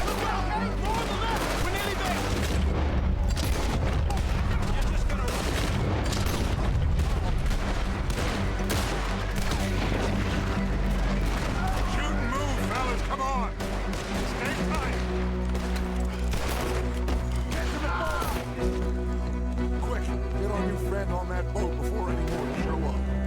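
Gunfire in the Red Dead Redemption 2 video game, with rapid repeated shots and volleys crackling densely throughout, while a person talks over the action.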